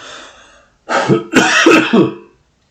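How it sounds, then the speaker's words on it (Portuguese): A person coughs and clears their throat in a few harsh, close bursts, then falls quiet. "Peço que me desculpem, essa tosse ela não me abandona."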